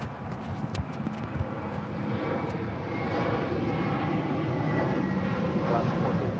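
Jet airliner taking off from runway 25 right at Los Angeles International Airport, a broad, steady roar that builds slightly and holds, heard from a distance with faint clicks and no clear talk.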